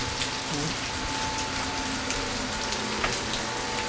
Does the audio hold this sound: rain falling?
yes